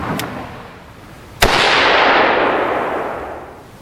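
An AR-15 rifle fitted with a small CB muzzle brake fires one loud, sharp shot outdoors, and its blast rolls away in a long echoing decay. A fainter crack from another shot comes just before it.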